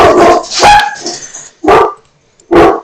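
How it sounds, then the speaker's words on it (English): Several sharp, loud dog barks close by, one burst of yips and whimpers followed by two separate single barks with short silent gaps between them. "Don't mind my dogs."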